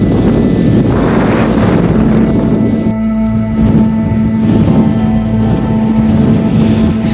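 Strong wind in Death Valley buffets the microphone in a constant, loud roar with a low rumble, steady throughout and with no voices.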